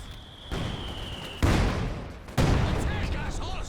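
Explosions from an artillery barrage and a bundle grenade in the video game Company of Heroes 2, two heavy booming blasts over rumbling battle noise, with a voice talking throughout.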